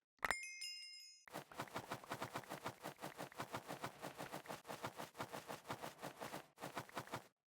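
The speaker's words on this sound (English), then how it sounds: "Just a nice sounding bell." A bright bell chime rings out in the Minecraft game (All of Fabric 6 modpack), clear and brief at the start, then gives way to a fast run of repeated clattering bursts that continue steadily to the end.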